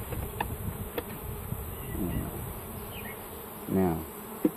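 Honey bees being put into a new hive at a homestead hum in a steady, continuous drone throughout, close and moderately loud, with a brief louder swell of buzzing near the end.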